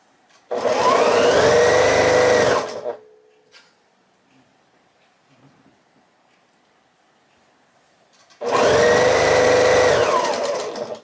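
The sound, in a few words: sewing machine sewing quilt pieces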